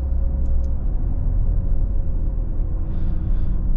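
2023 Maserati Grecale engine heard from inside the car, a steady low rumbling drone at even loudness with a faint whine, alone, with no talk.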